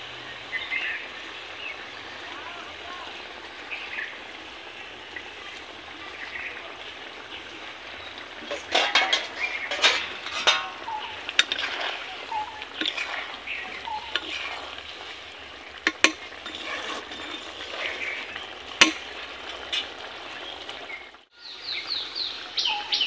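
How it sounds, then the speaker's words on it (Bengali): Pieces of fried fish go into simmering curry in a pan, raising a continuous sizzle and bubbling with scattered clinks and stirring scrapes, while birds chirp faintly outdoors. "তো আমি এবার ভেজে রাখা মাছগুলো এর মধ্যে দিয়ে দেব"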